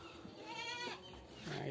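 Goats bleating while feeding on calliandra fodder, a short nasal bleat close by with a second call starting at the end, over a steady rustling background.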